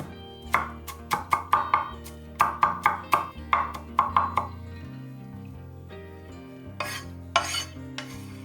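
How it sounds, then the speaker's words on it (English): A knife chops garlic on a cutting board in quick rhythmic runs of crisp taps, about a dozen strokes in clusters, over quiet background music, then a few scattered knocks. "Chop 35 grams of garlic."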